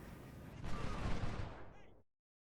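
Massed troops firing rifles and artillery in the Civil War strategy game Ultimate General: Civil War, a dense, rumbling burst of overlapping gunfire that swells and then cuts off abruptly after about two seconds.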